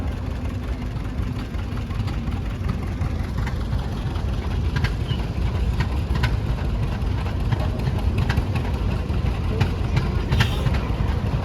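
A 1936 John Deere AR tractor rolling by in a steam and threshing show parade, its engine a loud steady rumble with rapid low chugging, with faint background crowd noise throughout.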